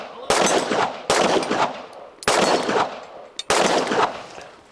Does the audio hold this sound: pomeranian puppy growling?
no